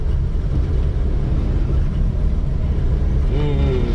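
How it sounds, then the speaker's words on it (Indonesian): A Suzuki Jimny with a two-stroke engine pulls along in third gear at low revs, giving a steady, dense low rumble throughout with no breaks, as traffic noise stays in the background. "Coba nih, masih gigi 3. RPM rendahnya sih lumayan."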